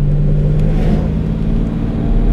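A restored 1972 Jaguar E-Type coupe with a 5.3-litre V12 climbs a steep serpentine road, its engine a steady, close, deep droning hum under load with a faint whir and no talking.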